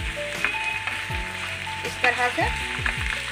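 Minced mutton keema frying with browned onions in a pan for samosa filling: a continuous sizzle with intermittent stirring scrapes and spatula knocks, close up, while a voice talks briefly over it.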